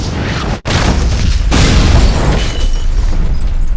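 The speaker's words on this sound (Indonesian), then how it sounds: "untuk memicu ledakan besar" A loud explosion in a film, triggered by a knife in a microwave, bursts after a brief silent gap, followed by a sustained, heavy rumbling roar of debris and fire that carries on to the end.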